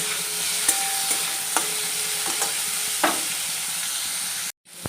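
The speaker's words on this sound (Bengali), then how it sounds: "এই মাছটা ভাজবো তেলটা গরম থেকে নিয়ে রাখলাম" Fish fries in hot oil in a pan, giving a steady bright sizzle punctuated by a few sharp spatters and stirring clicks before cutting out abruptly.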